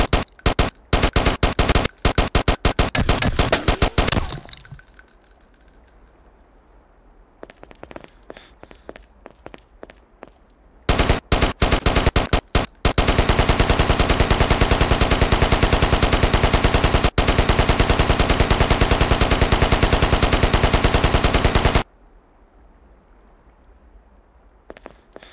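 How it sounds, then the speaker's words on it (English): Bursts of machine gun fire on a training range in the Ghost Recon video game: rapid loud volleys at the start, sporadic shots, then one long sustained stream of fire lasting several seconds before stopping. "Press the fire key to fire the machine gun."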